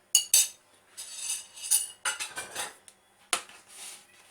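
A spoon mixes a mushroom and potato filling in a bowl, giving irregular clinks and scrapes against the bowl's side with short quiet gaps between strokes.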